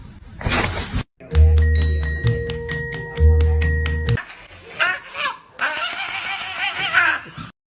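A dog barks and yips in short bursts, mixed with laughter and playful musical tones in a lively, noisy scene.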